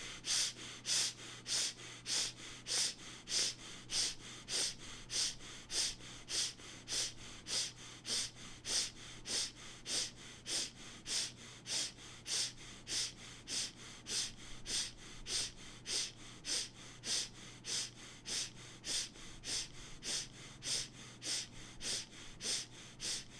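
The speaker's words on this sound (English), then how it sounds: "Quick, short, and gentle breathing through the nostrils into the chest." Quick, short breaths are pushed through the nostrils in a steady, rapid rhythm during a chest-expansion breathing exercise, each sharp nasal puff evenly spaced and repeated many times, close and fairly loud, with no talking.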